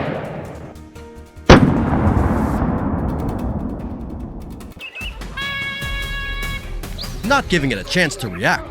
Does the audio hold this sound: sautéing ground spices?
no